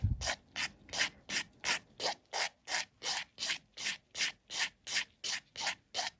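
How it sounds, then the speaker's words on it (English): An acrylic nail being filed down, close and quiet, a dozen even back-and-forth rasping strokes in a steady rhythm about two per second, with no talking. "We're just going to come in and file this down until we've revealed our design."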